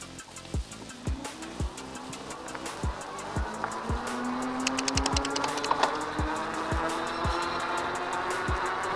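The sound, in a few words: Bee Cool Pathfinder fat e-bike accelerating on pedal assist 5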